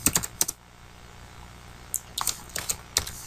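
Someone types on a computer keyboard, starting with a quick burst of key clicks, pausing, then hitting another cluster of keystrokes, close and fairly quiet against a faint room hiss.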